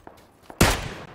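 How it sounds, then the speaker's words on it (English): Gunfire in the video game PUBG: a sharp, loud burst of several rapid shots following two fainter single reports, shooting from uphill with no talk over it. "He's got somebody shooting on him from uphill."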